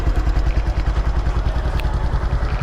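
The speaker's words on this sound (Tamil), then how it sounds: "இப்போ நான் வண்டி ஆன் பண்ணி காட்டுறேன் பாருங்கள். வண்டி ஆன் பண்ணியிருக்கேன்" A Pulsar 150 motorcycle under restoration runs steadily just after being switched on, a loud, close engine putter with rapid, even pulses.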